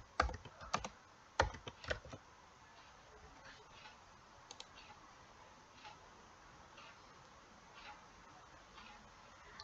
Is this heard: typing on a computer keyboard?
yes